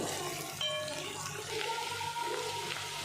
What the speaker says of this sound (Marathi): आपल्याला थोडा वेळ कांदा तळून घ्यायचा आहे।